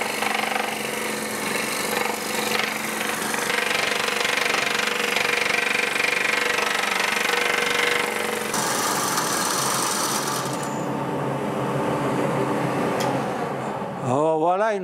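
A power saw cutting wooden toy shapes out of a stacked board, a loud continuous buzzing, rattling machine drone that runs unbroken for about fourteen seconds before cutting off.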